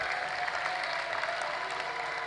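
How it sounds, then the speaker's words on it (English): A large audience at a youth conference keeps clapping, dense sustained applause from a big crowd, even and loud throughout. "please keep clapping for SGF, who has been here since morning with us"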